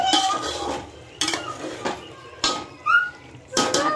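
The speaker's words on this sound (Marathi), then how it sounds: "आता काय करायचं, पातेलं जरा मी खाली घेणार आहे उतरून." A cooking pot of vegetable biryani is lifted off the stove amid a handful of metallic clanks and scrapes of pot and utensils, spaced irregularly at close range, with a brief squeak in between.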